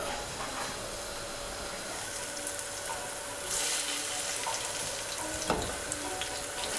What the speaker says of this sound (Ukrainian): Обсмажую сирники з двох боків на добре розігрітій пательні до рум'яної скоринки.